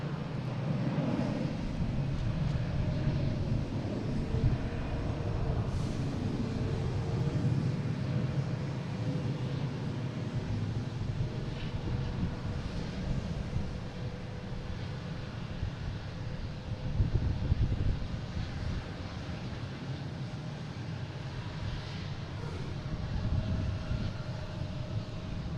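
Delta Airbus A321 bound for Atlanta at Boston Logan airport, a faint, distant, steady jet engine rumble with light wind noise and small bumps in level, no one talking.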